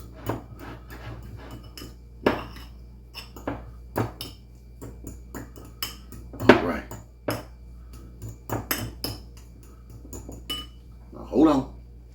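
A spoon mashes deviled egg ingredients in a dish, giving a series of irregular clinks and scrapes of metal on the bowl, with a person talking intermittently between them.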